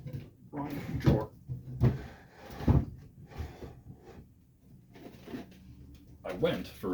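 A drawer is opened and shut while a person talks, giving several dull wooden thumps and short sliding knocks spaced about a second apart, mixed in with the speech.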